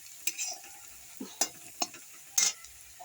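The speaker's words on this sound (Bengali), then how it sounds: "তারপরে কড়াইয়ে তেল দিয়ে পেঁয়াজটা ভাজছি।" Onions frying in oil in a wok, a soft sizzle under a series of sharp metallic scrapes and clinks from stirring, spaced irregularly and close by.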